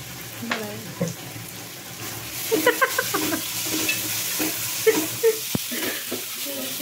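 Onions sauté in coconut oil for a soybean masala, with a crackling sizzle under the scrape and clatter of a spoon stirring in the pan and a couple of sharp knocks. Close and moderately loud, with no clear speech.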